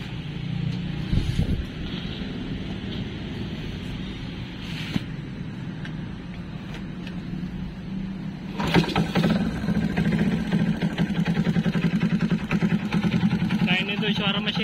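A restored 1967 Honda S90 motorcycle engine idles with a steady low putter, a brief rev jumps in partway through, and wind buffets the microphone while someone speaks.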